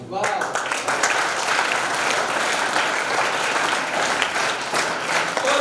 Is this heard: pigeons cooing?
no